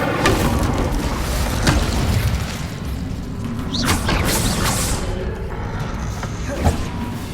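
Incendio fire spell cast in the Hogwarts Legacy video game, heard as a steady dense wash of magical effects with deep booms, thuds and whooshing bursts that swell and fade throughout.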